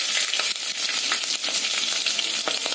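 Chili pieces fry in hot oil for a chicken biryani, a steady bright crackling sizzle with sharp spitting pops and faint stirring scrapes throughout, close and loud with no voices.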